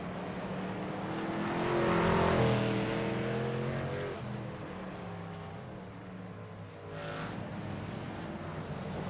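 A race car on the Sonoma Raceway road course goes flat out, its engine roaring at full throttle in a steady, droning surge that swells and then eases slightly.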